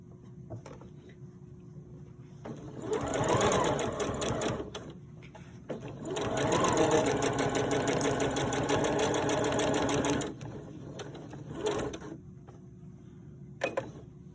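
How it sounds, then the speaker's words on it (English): A sewing machine stitches piping around the four sides of a fabric project, running in two long steady whirring bursts with short stops and handling noises between them, close and clear with no talking. "So I'm going to stitch along, turn at the corners, and go all the way around 4 sides"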